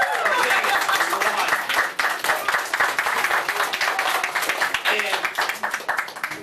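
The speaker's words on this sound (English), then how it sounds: "Go ahead and clap." At an end-of-season party, a team claps in a lively burst of many hands, close and loud, fading slightly in uneven waves.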